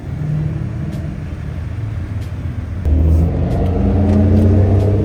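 A twin-turbo BMW E92 M3 engine rumbles steadily up close, then its note jumps louder and higher midway as the revs climb and hold, with a deep, continuous drone underneath.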